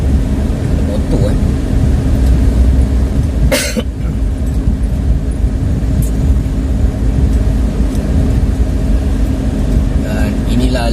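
Motorcycle riding along a trail in Templer Park, a loud, steady low rumble that runs throughout, close to the mic, with a short sharp burst a little before the middle.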